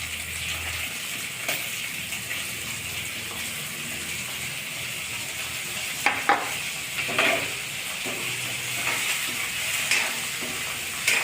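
Ingredients for a green chickpea curry are roasted in a little oil in a pan, with a continuous sizzling hiss and occasional scraping stirs and clatters, close by and without any talking.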